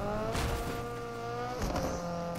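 A car engine in Fortnite drones steadily with harmonic whine, a brief screech near the end; synthetic game-like vehicle sound, fairly quiet, no speech.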